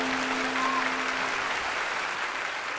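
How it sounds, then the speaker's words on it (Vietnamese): Audience applause for four blind artists on stage at a Vietnamese TV show, a steady broad wash of clapping filling the hall throughout, fairly loud with a faint tone underneath. "Chúng ta cho thêm một tràng pháo tay để dành cho bốn nghệ sĩ rất là tài năng của chúng ta."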